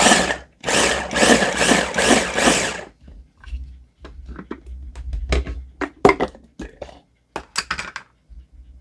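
A push-down food chopper chops salsa vegetables for home canning, giving five quick loud whirring bursts in a row, followed by softer clicks, clatter and taps close by.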